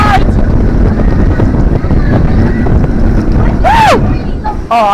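A roller coaster at Paultons Park races through its final helix, loud rushing wind and rumbling track buffeting the microphone, with riders' whoops and shrieks rising over the roar.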